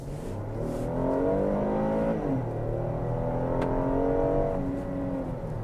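A 2018 Kia Sorento V6 SUV accelerates hard with the throttle floored, its engine note climbing steadily, easing briefly, then rising again in a continuous, close whirring surge.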